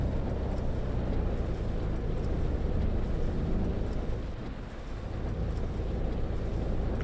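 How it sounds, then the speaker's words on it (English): A MAN coach bus engine in Fernbus Simulator drones steadily at road speed, a low continuous rumble that dips briefly midway as if easing off for a gear change before resuming. "I like the engine note in this. I really like the way it changes gears."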